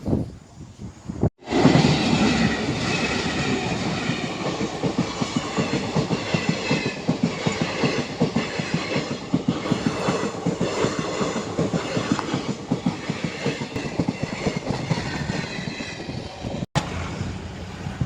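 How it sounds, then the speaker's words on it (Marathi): A train rumbles past close by near Lonavala, a steady loud roar with rhythmic clacking of wheels over rail joints that continues for many seconds. "इथे ट्रेन येते वाटते"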